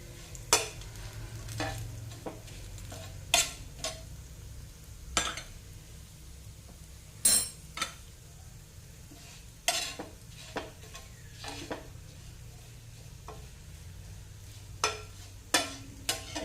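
Spices with asafoetida sautéed on low flame for kachori filling, a low continuous sizzle broken by repeated sharp spatula scrapes and clinks against the pan, close and without talk.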